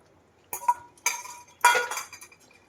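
Grated paneer and milk stirred in a pan: three short bursts of metal spoon scraping and clinking against the pan, close and fairly loud, with silence between.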